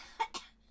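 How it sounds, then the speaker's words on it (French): Two quick, sharp coughs in quick succession, close and fairly loud, followed by quiet. "c'est quoi cette toux, là?"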